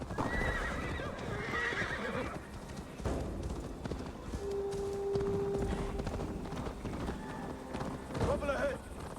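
In an Assassin's Creed game, a horse whinnies loudly and hooves clip-clop at a gallop amid combat noise, while people talk and shout over the action.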